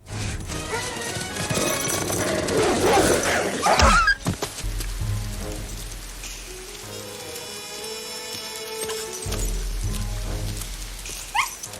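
A dog yips and whimpers in a scene from James Cameron's action comedy True Lies, blended into a dense movie soundtrack with rain-like hiss and other effects, fairly loud throughout.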